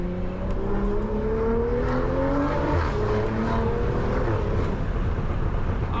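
A stock-tuned BMW M340i's engine drones from inside the car while driving, with rising and falling rev tones and steady road rumble, loud and continuous.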